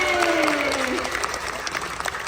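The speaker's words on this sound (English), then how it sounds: "Round of applause for Eugen, everybody!" A live science-show audience at Science Museum Oklahoma breaks into dense, steady applause that fills the room throughout, with a faint voice under it.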